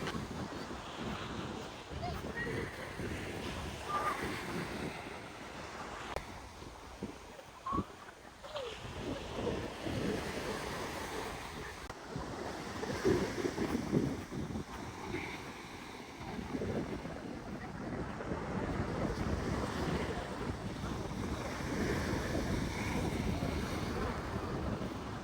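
Wind and surf on a beach in Spain, heard as steady rushing wind buffeting the microphone over rolling waves, with faint distant voices now and then.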